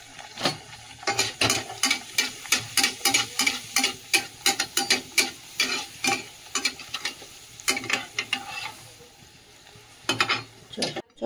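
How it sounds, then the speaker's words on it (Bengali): Pea-stuffed kachori fry in hot oil under a low sizzle, punctuated by a quick, regular series of sharp scraping clacks from a utensil stirring in the pan, close and alone. "এই দেখো কচুরি ভাজছি।"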